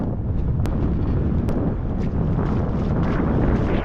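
Strong wind roars steadily across a microphone at a sailing spot, a dense, constant buffeting rush with a couple of brief higher whistles, loud and close with no talk.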